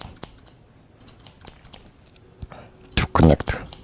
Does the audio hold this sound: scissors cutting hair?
yes